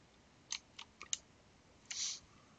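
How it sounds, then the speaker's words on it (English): A handful of sharp, irregular clicks from a loud mechanical keyboard being typed on, quiet and isolated in a near-silent room with no voices. "Sorry for my loud keyboard typing"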